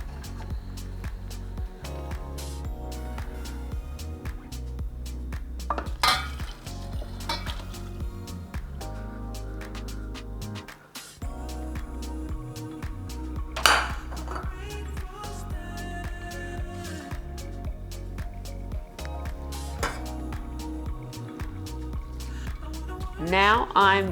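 Pots, pans and utensils clink and clatter nearby while cooked pasta is strained, with sharp metallic knocks scattered over a steady low hum and a person talking.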